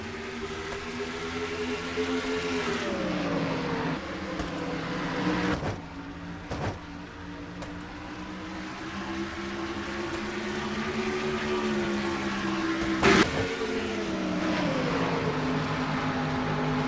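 Stock cars in a racing video game pull away from the start of the First Union 400, their engine whines rising and falling in pitch as they shift, with a few sharp bumps and no speech.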